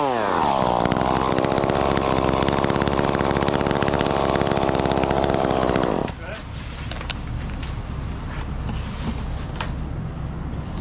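A chainsaw bites into a tree trunk for a shallow hinge cut, its engine roaring loud and steady for about six seconds before easing back to a rougher idle.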